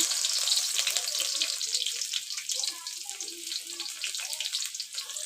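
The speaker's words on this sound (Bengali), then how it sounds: "তেল গরম হয়েছে পেঁয়াজ দিয়ে দিলাম" Onions hitting hot oil in a kadai for a small-fish and eggplant curry, producing a loud, continuous, close sizzle that fades slightly toward the end.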